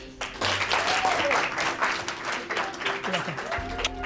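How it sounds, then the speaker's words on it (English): Audience applause at a live speaking event, a full burst of clapping from a crowd lasting several seconds with a few voices faintly underneath. "everybody please give me a huge round of applause"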